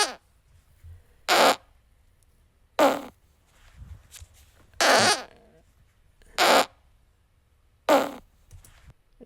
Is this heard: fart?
yes